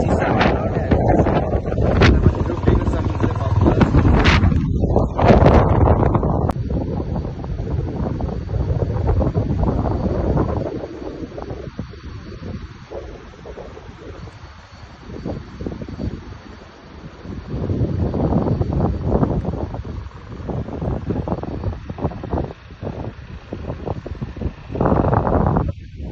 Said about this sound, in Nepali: एकदम चिसा हावा सर फेरि चिसा